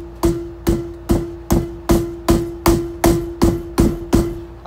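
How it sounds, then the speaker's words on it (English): A wheel bearing is tapped into a dirt bike hub with a soft hammer: eleven evenly spaced, sharp ringing knocks, each with a short metallic ring, loud and close with no talk. "And just give it a tap."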